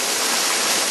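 Water poured onto permeable pavement at a street opening, a loud, steady, close rush of splashing water that stays constant throughout, with no talk.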